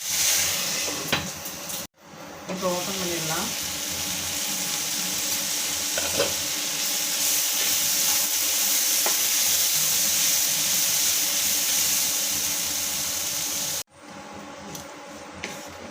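Cowpea poriyal sizzles steadily in a pan while a spoon scrapes and stirs through it, a constant close frying hiss with a few clinks and scrapes, and no one talking.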